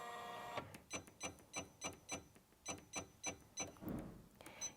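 A Janome Memory Craft 550E embroidery machine steps its needle position with a string of quiet, regular mechanical clicks and whirring ratchets, about eight evenly spaced pulses close up, with no talking.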